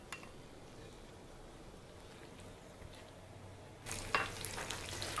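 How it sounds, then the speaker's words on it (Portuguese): Bacon and sausage frying in oil in a pan, a steady soft sizzle throughout that swells louder and brighter near the end, with no talk. "Vou colocar aqui para fritar, então, o bacon"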